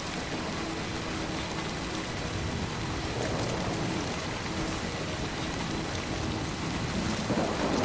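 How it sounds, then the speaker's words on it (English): Heavy rain pours down steadily in a Death Stranding storm, a dense constant hiss with low rumbling beneath, loud and unbroken throughout. "it is really raining in this game. The storms are really bad now."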